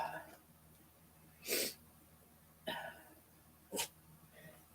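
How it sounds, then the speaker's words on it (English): A dog close by gives three short, sharp barks or huffs spaced about a second apart, standing out against a quiet indoor background during a casual live stream. "And there's the doggy again."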